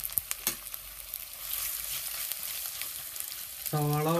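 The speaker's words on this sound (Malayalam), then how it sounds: "അപ്പോൾ മൺചട്ടി വെച്ച് എണ്ണ ഒഴിച്ച് ചൂടായിട്ട് അതിലേക്ക് സവാള മാറി ഇട്ട് കൊടുക്കുകയാണ്." Onions dropped into hot oil in a clay pot for duck curry, giving a steady bright frying hiss throughout, with a few handling knocks near the start and a brief sharper tone near the end.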